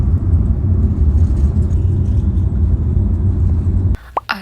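Steady low, loud engine rumble of a bus underway in Mexico, continuous for about four seconds before dropping off abruptly near the end, leaving a few faint clicks.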